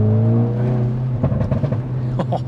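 Hyundai i20N hot hatch engine holding a steady drone, then lifting off into a rapid string of crackling, popping factory exhaust burbles, loud and close.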